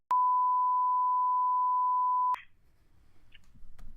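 A steady telephone beep tone holds for about two seconds while a call connects, then cuts off with a click into quiet line noise and faint rumble.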